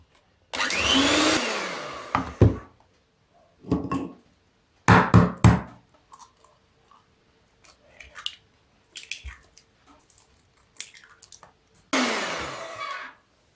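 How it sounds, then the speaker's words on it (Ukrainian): An electric mixer whirs in loud, separate bursts as eggs are beaten one at a time into choux dough for eclairs, with quiet pauses and small kitchen clatter between runs. "По одному додаю яйце. Тепер буду збивати."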